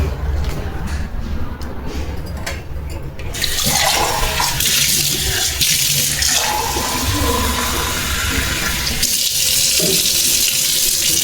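Water running from a tap for drinking, a steady splashing rush that starts partway through and keeps flowing, close and fairly loud, with a brief pause near the end.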